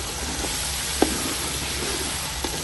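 Turnips with cumin and salt fry in a pan, a steady close hiss of sizzling oil with a couple of soft scrapes of the stirring spoon.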